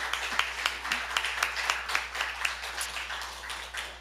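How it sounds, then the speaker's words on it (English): Scattered applause from a church congregation during a service, individual claps clearly spaced and rhythmic rather than dense, fairly faint over a low steady hum. "Let's give her another round of applause."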